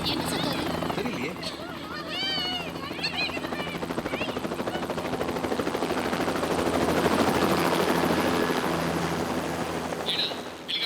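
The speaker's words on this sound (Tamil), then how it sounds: "ஹெலிகாப்டர் வந்தாச்சா? வந்துருச்சு அங்கிள்." A helicopter's rotor drones steadily nearby, growing louder midway, while people talk over it and birds chirp briefly early on.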